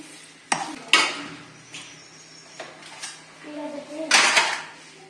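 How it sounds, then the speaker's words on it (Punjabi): Mango pickle being stirred with spices in a bowl: scattered clinks and scrapes of a spoon against the dish, with a couple of sharper knocks, close by and intermittent. "ਚੰਗੀ ਤਰ੍ਹਾਂ ਮਿਕਸ ਕਰ ਲਾਂਗੇ"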